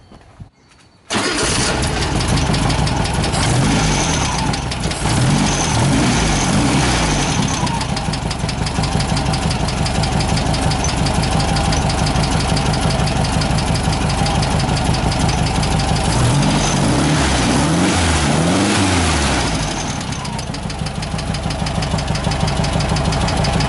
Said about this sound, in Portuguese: agora a gente vai dar uma partida.